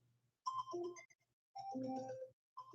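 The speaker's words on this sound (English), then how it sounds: "Oh, my phone, that's my alarm." A phone alarm rings in repeated bursts of bright electronic tones with a low hum underneath, each burst lasting under a second and separated by short gaps, loud and close with no talking.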